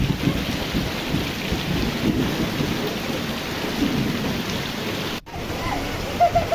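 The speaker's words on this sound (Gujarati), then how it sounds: "ધોમે ધોમ વીજળીના કડાકા ને ભડાકા ને વરસાદ ને મોજે મોજ" A heavy monsoon downpour in Dhoraji roars in a thick, continuous wash of rain, with deep rolling thunder rumbling underneath throughout, loud and enveloping.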